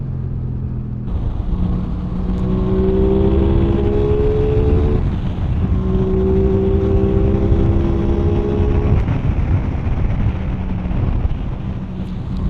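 An Aprilia Tuono 660 is ridden hard on the road and pulls through the gears in rising engine sweeps, with a short dip between them. Heavy wind roar on the microphone sits under the engine, and no one speaks.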